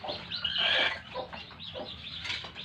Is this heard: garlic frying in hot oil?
no